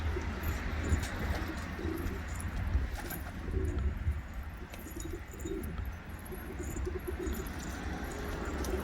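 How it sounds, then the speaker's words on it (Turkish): Turkish and Arabic breed pigeons coo softly and repeatedly outdoors on a sunny day, steady low calls over a constant background hum with no talking. "Gelip böyle kuşları bırakıp güneşte neşelenmeleri, banyo yapmaları"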